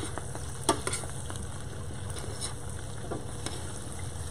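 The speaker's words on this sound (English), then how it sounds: "give them a nice stir" Dry aged beef stock is stirred in a big pot, with scattered clunks and scrapes of the spoon against the pot over a steady, busy simmering hiss.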